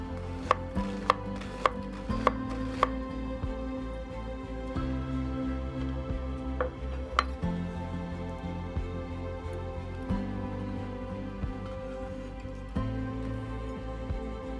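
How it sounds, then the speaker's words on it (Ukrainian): A knife slices an onion into thin half-rings on a board, a quick run of sharp taps at first, then steady slicing continues throughout, close up with no talking. "Нарізаю її півкільцями дуже тоненькими"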